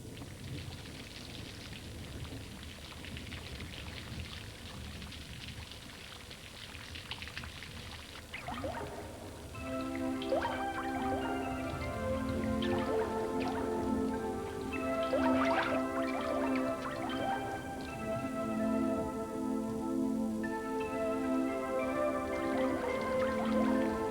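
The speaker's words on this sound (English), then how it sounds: "Water runs everywhere amid the rumbling, turning the flying buttresses into waterfalls where gargoyles huddle in the dark." Rainwater after a storm at Notre Dame cathedral in Paris, dripping and pouring off flying buttresses and gargoyles. A steady patter and splash builds into a fuller, continuous stream of running water, close and with no talking.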